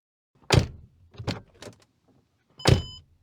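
A heavy door of a Mercedes W219 CLS63 AMG shuts with a solid thunk, followed by a couple of softer thuds and then another firm closing.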